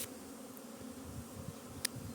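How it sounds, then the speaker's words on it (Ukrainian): Honeybees flying around an apiary hum continuously in a steady, dense buzz, with a faint click or two standing out. "Бджоли пішли на обліт на пасіці."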